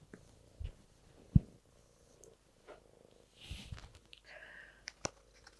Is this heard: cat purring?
yes